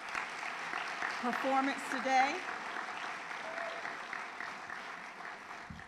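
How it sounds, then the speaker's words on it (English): A school-event audience applauds a steel drum band at a teacher awards ceremony, a dense even patter of many hands heard at moderate distance while a presenter speaks over it. "Please share a round of applause for their"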